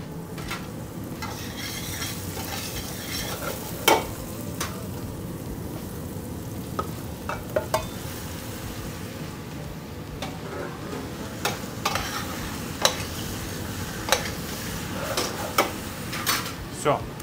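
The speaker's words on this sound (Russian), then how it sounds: "Пусть жарится, не забываем помешивать, чтобы равномерно все обжаривалось со всех сторон." Onion sizzles quietly in a pan while a utensil scrapes and stirs now and then with occasional light clinks.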